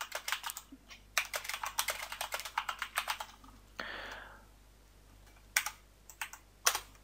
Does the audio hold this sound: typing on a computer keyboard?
yes